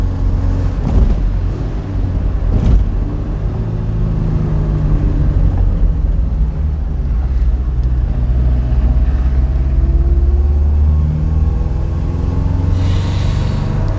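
A 1600 Alfa Romeo Giulia Sprint engine drones steadily in fourth gear without hard acceleration, a loud continuous low rumble heard from inside the car with no talking.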